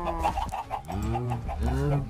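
Minecraft chickens cluck in quick repeated bursts, several short clucks close by, loud and clear with no talking over them.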